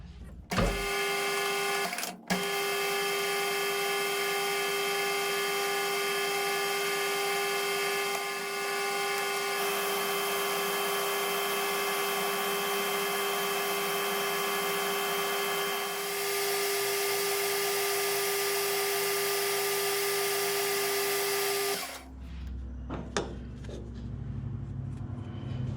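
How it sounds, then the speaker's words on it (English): A metal lathe facing and machining a crankshaft part for a Webster engine gives a steady, loud whine with bright tonal harmonics for over twenty seconds, then stops, leaving quieter workshop noise. "So the first part is just face this off. Then I'm going to machine down to 1 inch 125"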